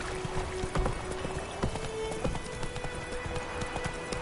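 Hooves of the horse Roach clip-clop at a gallop in The Witcher 3, a fast rhythmic pounding of close footfalls with light clatter and a faint tonal hum underneath.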